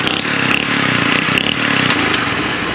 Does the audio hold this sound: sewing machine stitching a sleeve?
no